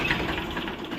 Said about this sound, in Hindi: ट्रैक्टर है जी, बवंडर नाम का ट्रैक्टर है